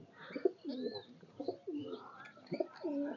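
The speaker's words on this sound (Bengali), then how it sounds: "দেখতে পাচ্ছেন ডিম নিয়ে বসে আছে" Racing pigeons coo in a rooftop loft where a bird sits on its eggs: repeated close, soft rolling coos in short phrases with brief pauses between them.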